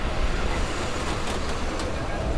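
A New York City subway train rumbles past loudly and continuously, with a dense, steady roar and faint rail clatter throughout.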